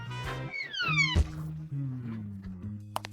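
A cat meows several times in quick succession, each call rising and falling in pitch, loud and near, with other faint sounds around it.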